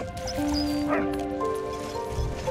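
A dog in the World War I video game Valiant Hearts gives a short bark and whimpering yips over tonal game music, clear and close within the game soundtrack.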